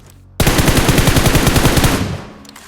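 A Mini14 rifle on full auto in PUBG Mobile rattles off a loud, rapid string of about twenty evenly spaced shots, then the burst stops and a short echo tails away.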